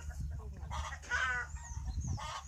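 Chickens cluck and a rooster gives a short call beside a chicken coop on a rural farm in Paraná, several birds close by with overlapping clucks against a low background rumble.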